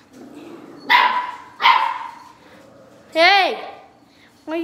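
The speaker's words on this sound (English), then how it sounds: "Hey, why are you all barking?" Dogs bark in short bursts, two loud barks then a higher yelping bark, close by, with a person talking faintly underneath.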